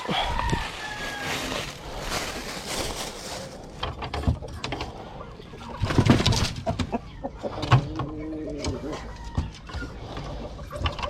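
Roosters penned in a coop, with bird calls and clucking mixed among mechanical clatter and handling noises, while someone talks over much of it.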